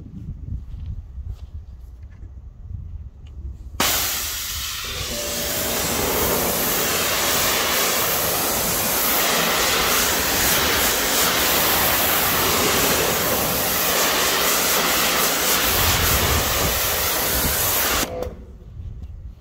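A strong, steady hiss of water spraying from a hose onto a car panel starts abruptly, runs for about fourteen seconds, then cuts off.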